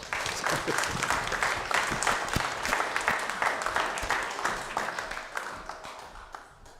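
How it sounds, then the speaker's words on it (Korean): A crowd claps together in sustained applause at a church service, gradually fading toward the end, indoors and moderately loud. "박수 한번 하십시오"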